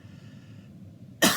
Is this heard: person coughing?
yes